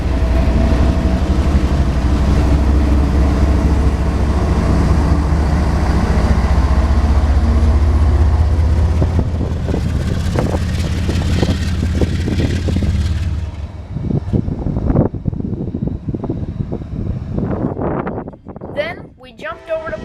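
Two Citirail locomotives switching tracks near a Florida rail yard, a heavy, loud diesel rumble that eases after several seconds into clanking, squealing wheel and rail noise.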